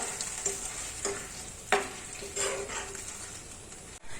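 Rice porridge being mixed with fried shallots and curry leaves in a pan: repeated close scraping stirs, roughly every half second, over a soft sizzle, ending in a brief clatter.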